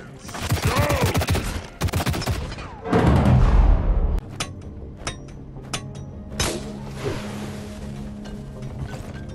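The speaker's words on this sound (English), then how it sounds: "Rockets." Rockets and heavy gunfire rip through a firefight in the co-op mining shooter Deep Rock Galactic, with dense loud bursts and a thunderous blast in the first four seconds, then sharp scattered cracks and shots over a low rumble.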